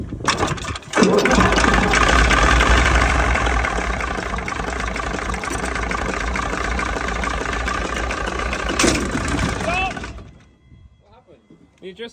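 A huge 38.8 litre V12 engine that once powered a hospital cranks over and then runs with a loud, continuous heavy roar before dying away near the end, with voices speaking over it.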